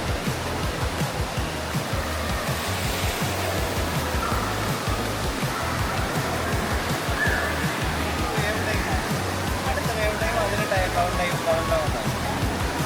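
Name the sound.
wave pool water rushing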